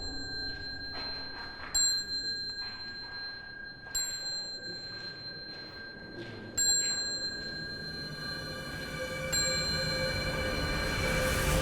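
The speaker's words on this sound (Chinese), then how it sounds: "因为听说敲响了这个铃声，他们就会聚集在你身边。" A small hand bell rings in an abandoned shopping mall to call spirits, several separate bright dings with long ringing tails spaced a couple of seconds apart, then rising background noise.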